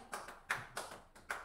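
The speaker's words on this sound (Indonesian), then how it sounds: "Kalau saya bilang tepuk 1, tepuk 2, tepuk 3, tepuk 4, tepuk 5," A class clapping in a counted pattern, with several sharp clap bursts spaced irregularly over a short span, fairly faint and with no voices.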